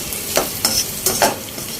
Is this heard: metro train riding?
no